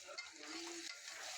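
Chicken pieces stirred into an onion-tomato tempering in a pan for chicken pulao, giving a soft, steady sizzle with light scraping, faint and close.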